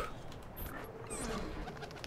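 Pigeons coo around a rooftop pigeon coop in Assassin's Creed II, soft low warbling calls under a steady ambient game wash, with a brief high chirp partway through.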